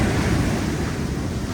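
Ocean surf breaks along a shoreline near Lagos, a loud, continuous roar of rushing water mixed with heavy wind buffeting the microphone, with no voices over it.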